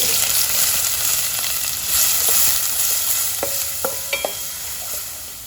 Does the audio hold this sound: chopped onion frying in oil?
yes